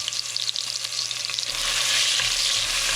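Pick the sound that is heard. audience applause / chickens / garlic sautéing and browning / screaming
garlic sautéing and browning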